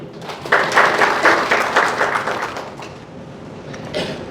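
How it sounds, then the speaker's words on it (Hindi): Audience applause at a Hindi lecture on colonial-era history, a dense burst of many hands clapping that swells in the first seconds and then slowly fades, with a few louder claps near the end. "ताली बजाइए।"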